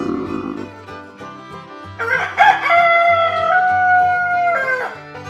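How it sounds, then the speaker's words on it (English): A farm rooster gives one long, loud cock-a-doodle-doo over soft background music, starting about midway and ending with a short trailing call. "It's a rooster."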